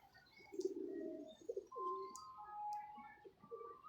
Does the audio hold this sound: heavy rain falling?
no